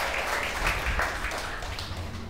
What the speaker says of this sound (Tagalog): The best pong palakpak para kay Jesus